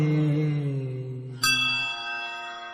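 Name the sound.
bells ringing in a devotional hymn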